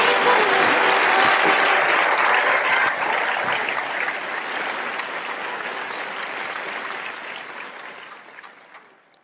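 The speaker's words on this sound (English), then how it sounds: "So amongst a thunderous applause, please welcome my co-chair, Mr. Kamlesh Shah." Thunderous audience applause at a charity gala, loud dense clapping at the start that gradually thins and fades away over about nine seconds.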